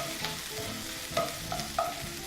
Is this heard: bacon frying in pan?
yes